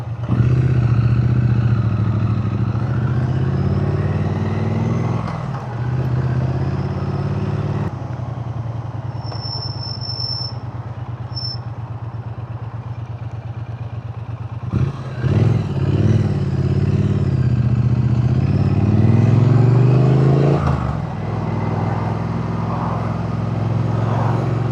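A Triumph Speed Twin 900 motorcycle rides along English village roads, its steady engine drone and wind rumble continuous throughout, with slight swells as the rider shifts and accelerates.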